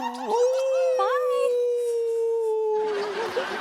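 A man imitates a dog howling with one long, loud, sliding howl that starts with a yelp, and a noisy rustle takes over near the end.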